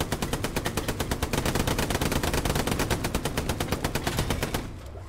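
Rapid video game machine-gun fire rattles in a steady, loud, close burst lasting several seconds before cutting off abruptly.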